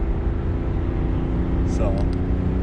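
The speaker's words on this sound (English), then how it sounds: "This is the 3-liter Duramax in tow haul." A 3.0-liter Duramax diesel pickup in tow/haul mode pulls from a roll near maximum payload, giving a steady low engine drone heard from inside the cab. A brief chirp-like sound cuts in near the end.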